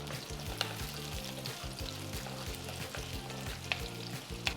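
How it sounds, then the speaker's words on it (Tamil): Onion and garlic frying in oil sizzle continuously with a close, crackling hiss, punctuated by a few sharper pops, while a low patterned background sound runs beneath. "நம்ம சேர்த்த வெங்காயம் பூண்டு ஓரளவு நல்லா வதங்கி ஓரளவுக்கு நல்லா குக்காகி அந்த சலசலப்பு எண்ணெயில் இருக்கிற சலசலப்பு அடங்கணுன்னா"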